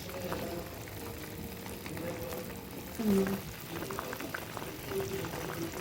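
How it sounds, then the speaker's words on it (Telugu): Gulab jamun simmer in a pan of syrup, a steady soft bubbling and sizzling heard up close, with a brief louder surge partway through. "ఇప్పుడు మనము ఇందులో 2 నిమిషాలు గులాబ్ జామున్ వేసుకొని ఉడకబెట్టుకుందాం."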